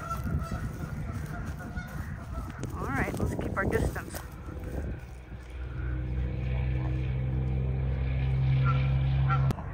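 Geese honking outdoors on a sunny day, a few loud calls bursting out near the start amid steady outdoor noise, with a person speaking briefly over them.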